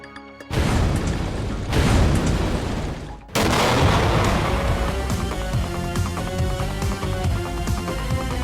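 A voice imitates bomb blasts, loud rough booming bursts, one after another, the second running on with a rumbling, crackling tail.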